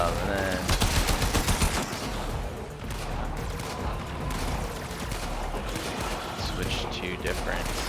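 Rapid pistol gunfire in the video game Warframe, heard as a quick string of sharp shots early on, then dense mechanical clatter and combat noise under a talking voice.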